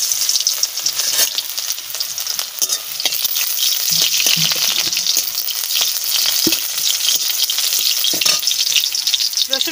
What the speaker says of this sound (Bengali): রসুন দিয়ে দিচ্ছি,